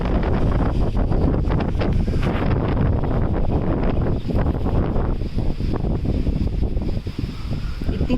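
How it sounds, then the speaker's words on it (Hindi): Strong cyclone winds from Super Cyclone Amphan buffet the microphone under a shed in a continuous roar with gusty rushes, loud and close throughout, no voices heard. "बहुत ही तेज़ हवा"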